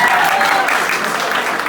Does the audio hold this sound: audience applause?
yes